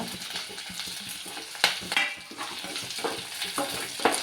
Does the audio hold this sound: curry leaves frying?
yes